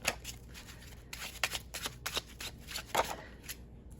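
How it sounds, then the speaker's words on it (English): Tarot cards are shuffled by hand in a quiet room, a series of brisk papery riffles and soft flicks in short bursts, close and fairly faint, with no talking. "Let's pull some more cards to see what this is all about."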